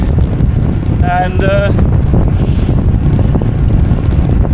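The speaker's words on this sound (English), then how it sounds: "you do get exposed to the wind more if it's in that direction." Strong wind buffets the microphone on the exposed Isle of Man Gran Fondo chrono course near Snaefell, a steady loud roar throughout with a brief voice and a few tonal chirps partway through.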